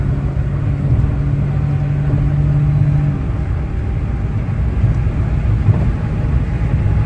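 A Daihatsu Mira Gino automatic four-wheel-drive car in fourth gear accelerates at full throttle from around 60 mph, heard from inside as a loud, steady low engine drone and road rumble that holds constant, no talking.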